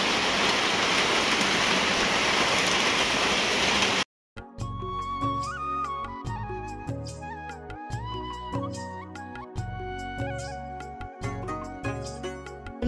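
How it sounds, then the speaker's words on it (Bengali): Rain pours in the Darjeeling hills as a dense, even hiss for about four seconds, then cuts off abruptly and music takes over. "কিন্তু শুরু হয়ে গেল বৃষ্টি"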